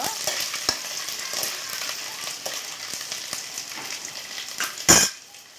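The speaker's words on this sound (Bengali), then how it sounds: "তো নারকেল কুচি দিয়েছি এবার এটাকে একটু নেড়ে ছেড়ে নেব" Grated coconut sizzles steadily in a hot pan while a utensil scrapes and stirs it, with sharp clinks of metal on the pan and one louder clatter near the end, the whole thing close and fairly quiet with no talking.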